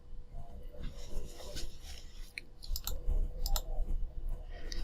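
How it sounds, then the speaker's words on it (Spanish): Sharp clicks of a computer mouse during CAD/CAM software work in Powermill, setting up a turning, grooving and parting operation; several close, dry clicks scattered over a faint background rub. "si damos un clic en cualquier lugar"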